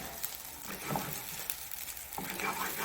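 Potato bites browning in a pan with just a tablespoon of oil, a soft steady sizzle with light crackles and pops running throughout, close by.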